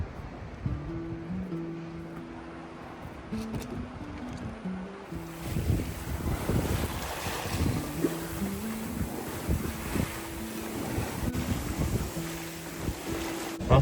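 Sailboat under way on the Ionian Sea, heading upwind in moderate wind, with steady wind rush and water wash around the hull, a low tonal hum in the first seconds, and gusty noise building after about five seconds with no talking.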